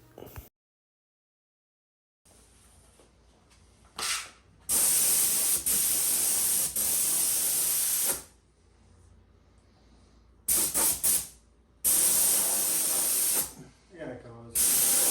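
A paint spray gun fed by a 20-gallon air compressor hisses in several long, loud bursts separated by short pauses, with a quiet background hum between sprays.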